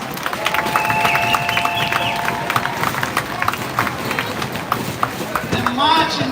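Crowd applause and cheering for marching band participants at a community band showcase, a broad steady clatter of clapping with whistle tones and voices mixed in throughout.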